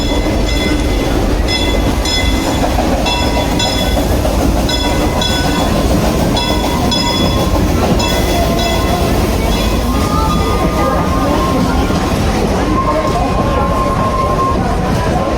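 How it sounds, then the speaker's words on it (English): A theme park train at Silver Dollar City rumbles steadily past nearby for the whole stretch, with a rhythmic clickety-clack of wheels and a high squeal creeping in toward the end. "We got the train coming up."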